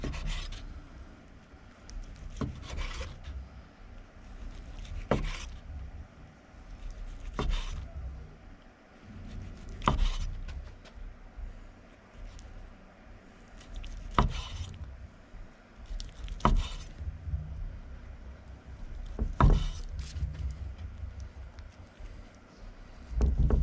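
Knife cutting through smoked pork ribs between the bones on a cutting board, a series of separate chopping thuds and scraping strokes spaced a few seconds apart, close and moderately loud with no talk.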